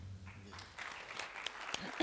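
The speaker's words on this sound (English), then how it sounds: "A round of applause, no doubt, for a wonderful panel discussion." Audience applause following a panel discussion at an API 2018 conference session, scattered claps building after a brief lull, moderately quiet with a low hum at the start.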